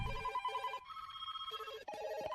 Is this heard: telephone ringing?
yes